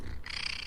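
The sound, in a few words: cat purring and meowing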